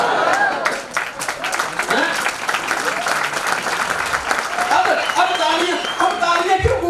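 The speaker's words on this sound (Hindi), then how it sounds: "अब तालियां क्यों गूंगों की तरह बच रही है?" Lecture audience applauding, dense sustained clapping from a crowd that carries on steadily throughout, loud and close.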